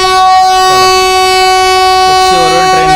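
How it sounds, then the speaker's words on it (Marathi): Jamnagar–Tirunelveli Express pulling out of Ukshi station, a loud sustained horn blast ringing out over rolling train noise, with a voice speaking briefly beneath it. "उक्षीवरून ट्रेन निघालेली आहे"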